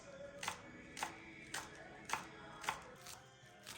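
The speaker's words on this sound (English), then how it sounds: "We'll go ahead to chop some spring onions, separating the greens from the white." Spring onions being chopped on a cutting board, about six evenly spaced knife strikes in a steady rhythm, close and crisp with no talking.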